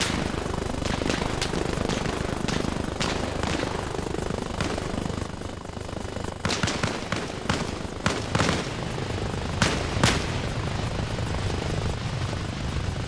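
Sharp gunshot cracks, scattered and irregular, ring out during a military operation against the steady loud roar of a helicopter, with several shots clustered close together near the middle.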